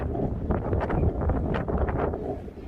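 Strong wind roars across the microphone on a bridge by a harbour in Hamburg, a continuous low rumble with repeated gusty bursts and flutters, no voices.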